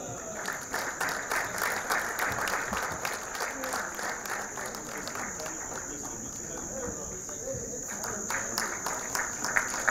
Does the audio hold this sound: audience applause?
yes